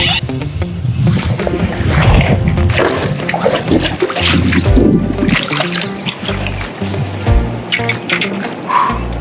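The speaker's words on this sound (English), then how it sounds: "I think that's the longest fight that I've ever had with a bass" A bass thrashing and splashing at the side of a kayak during a long fight on Lake Wheeler, loud irregular water bursts and thumps against the hull, close up.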